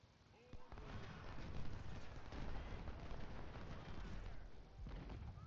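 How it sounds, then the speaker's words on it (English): Artillery firing shell in the Civil War strategy game Ultimate General: Civil War, a dense rolling rumble of cannon booms with sharp reports, loud and sustained. "we're going to have Woods open fire since he's going to be firing shell"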